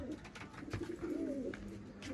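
Breeder pigeons coo close by, a low rolling coo rising and falling in the middle, with soft scuffs and rustles around it and no speech.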